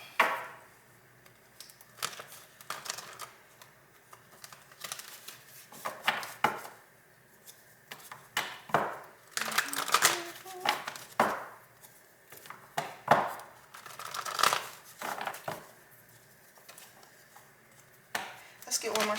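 Tarot cards being shuffled, sharp papery riffles and taps arriving in irregular clusters with quiet gaps between, close by and fairly soft.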